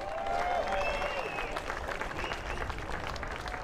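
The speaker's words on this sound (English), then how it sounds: "A big round of applause at Welland, Ontario for Tyler" Crowd applauding a flat track motorcycle racer at a Welland, Ontario track, steady clapping and crowd noise with some voices mixed in, fairly continuous over the whole stretch.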